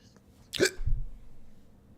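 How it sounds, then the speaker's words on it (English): A single sharp hiccup, close and sudden, followed by a brief low breathy sound during a video game livestream. "I've got the hiccups"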